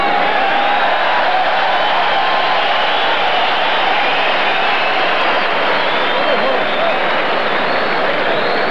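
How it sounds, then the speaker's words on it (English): A boxing arena crowd at a women's bout roars in a dense, sustained wash of cheering and applause, loud and unbroken throughout, with a commentator's voice partly audible beneath. "A strong response from the crowd."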